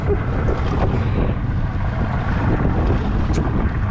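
Outboard motor on a small fishing boat out at sea while snapper fishing, a steady loud engine drone mixed with wind buffeting and water rushing past the hull.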